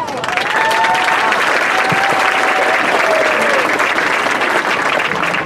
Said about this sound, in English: One more round of applause for our Flyerettes and their special friends tonight